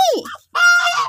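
A goose honks twice, loud and close, the calls separated by a short pause.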